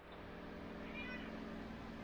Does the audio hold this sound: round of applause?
no